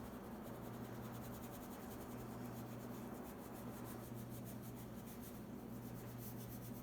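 Green and yellow oil pastels are rubbed firmly across paper to blend the colours, making a faint, steady, continuous scratchy rubbing close by with no pauses.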